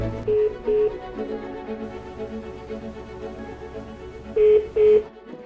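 Touch-tone telephone keypad beeps as a call is dialed and transferred: two short, clear tones near the start and two more near the end, with a steady low background hum in between.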